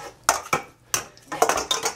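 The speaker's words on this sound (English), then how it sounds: "I have to mix it well" Mashed green beans are mixed with a walnut and spice mixture, a utensil clinking and scraping against a dish in quick, irregular strokes, close up with no talking.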